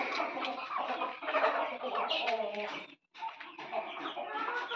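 Desi country hens cluck and squawk in a busy chorus inside a coop with laying boxes, fairly close and continuous apart from a brief gap, with a person talking at times.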